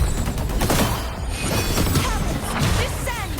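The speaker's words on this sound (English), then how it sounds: "Cannons, descend!" Cannon fire in the video game Wuthering Waves: a dense barrage of loud, overlapping booms and crashes rolls on without pause, with a faint game voice mixed in among the blasts.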